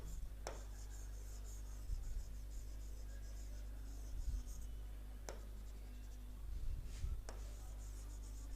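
Marker or chalk writing on a classroom board, a faint steady scratching of short strokes with a few sharp taps, heard alone over a low electrical hum.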